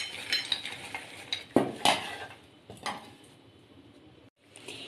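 Crispy fried gatta snacks, a flaky fried flour sweet, rattle and clatter against a dish in a few irregular bursts, close and fairly quiet, with brief pauses in between.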